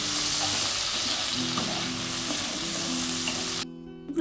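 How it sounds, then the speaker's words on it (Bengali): Prawns frying in hot oil with salt and turmeric, a loud steady sizzle with occasional stirring, heard close, which cuts off abruptly near the end. "চিংড়িগুলোকে বেশ লাল লাল করে ভেজে নেব।"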